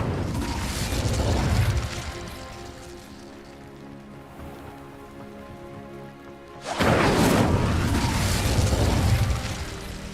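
The Incendio fire spell cast in the video game Hogwarts Legacy makes a loud roaring whoosh of flame. It fades to a lower crackling rumble, then surges loudly again in a second burst.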